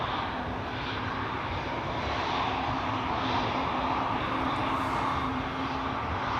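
An Air France jet airliner bound for Paris at Amsterdam Schiphol Airport gives off a steady, broad engine roar that holds at an even level throughout, with no voices.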